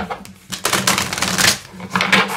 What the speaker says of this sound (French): je vais tirer une carte comme ça aussi